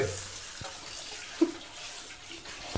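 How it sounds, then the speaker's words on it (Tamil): Tap water runs in a kitchen while chicken is washed for Hyderabadi Lalbagh biryani: a faint, steady hiss with a couple of soft clatters from handling. "சிக்கன் எல்லாம் வாஷ் பண்ண போகிறாரு."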